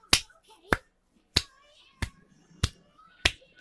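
Sharp hand claps, six separate crisp strikes spaced roughly half a second to a second apart, close and loud against near silence.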